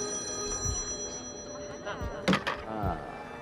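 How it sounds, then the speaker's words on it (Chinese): A mobile phone rings from inside a bag as a steady, tonal electronic ringtone, with a few soft thuds and voices nearby. "结果呢，电话突然响了"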